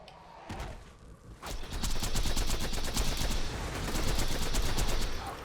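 Rapid, loud gunfire from the Lyuda rifle in Borderlands 2 during a raid boss fight: two separate shots, then a sustained fast burst of cracking rounds that runs for several seconds.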